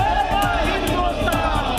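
A dense street crowd at a protest in Patna, with BJP workers shouting slogans, forms a steady loud roar of mixed voices with rhythmic chanted bursts throughout.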